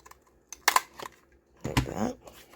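Scissors snipping a notch into a paper tri-fold tag: a few short, crisp cuts close by, with a longer crinkly cutting stretch near the end, in a quiet room with no talking.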